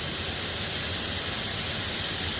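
Sirloin steak searing in a hot pan just after being flipped, a loud continuous hiss and sizzle held at a constant level throughout, close and without talking.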